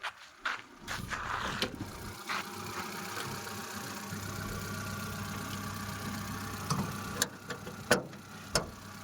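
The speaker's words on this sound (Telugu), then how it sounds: "చూసిగా ఇంజన్ ఇది" An LPG-fuelled car engine idles quietly and steadily, a low even hum with a few sharp clicks and knocks standing out near the start and end.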